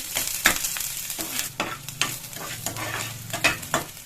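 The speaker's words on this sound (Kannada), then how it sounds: "ಮೊದಲಿಗೆ ನಾನು ಈರುಳ್ಳಿ ಹಾಕೊಂಡಿರ್ತೀನಿ ಈರುಳ್ಳಿನ ಚೆನ್ನಾಗಿ ಫ್ರೈ ಮಾಡ್ಕೊಂಡು" Onions frying in oil on a tava for kattina saaru, a close bubbling sizzle broken by repeated sharp scraping stirs of a spatula at an irregular rhythm, with no voices.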